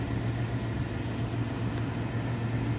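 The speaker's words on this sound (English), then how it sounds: "Listen. Beautiful V8." An old pickup truck's V8 engine idles steadily with a low, even rumble, fairly quiet and unbroken for the whole stretch, with no talk.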